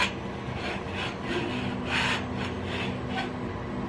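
Plastic trucks for an MPCNC Primo build are slid along a metal EMT rail, making a close, repeated scraping rub in several short strokes.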